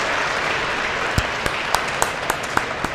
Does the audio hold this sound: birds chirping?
no